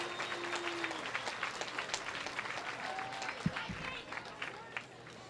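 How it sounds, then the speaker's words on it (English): Spectators at a junior bowling championship tournament applaud the athletes as the final round begins, a moderate, fairly distant clapping with scattered voices and a few sharp knocks in the hall. "let's give these athletes a big round of applause as they begin their last round of tournament competition"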